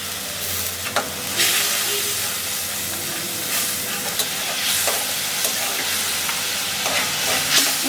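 Chilli, coriander and cumin paste with turmeric fries and is stirred in a pan with a splash of water: a loud continuous sizzle and steamy hiss broken by repeated scraping strokes of the spoon.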